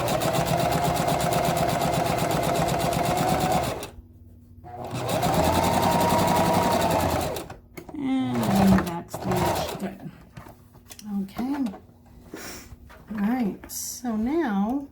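A sewing machine stitches a handbag pocket right along the fabric's edge in two bursts of loud, fast running separated by a short pause, then a person talks.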